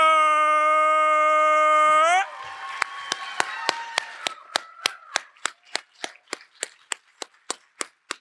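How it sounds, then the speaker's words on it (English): Crowd at a poetry slam gives a slam poet rhythmic applause: after a sustained held tone, sharp single claps land in a steady, evenly spaced beat that continues for several seconds. "Thank you for the applause, guys."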